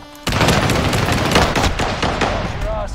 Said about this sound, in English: What is this, the M1 Garand?